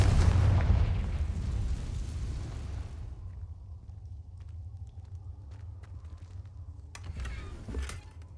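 A Confringo explosive spell detonates in Hogwarts Legacy with a loud, deep booming blast that rumbles and fades over three seconds, followed by quieter crackles and a second sharp burst toward the end.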